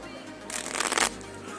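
A deck of playing cards is riffle-shuffled once, a quick crisp fluttering burst lasting about half a second before the room falls quiet again.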